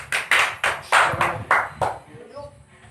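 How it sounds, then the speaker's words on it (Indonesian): Classroom clapping for a student, a few loud, distinct, rhythmic claps close by that taper off into a short ringing tone. "Berikan tepuk tangan untuk Jumiati"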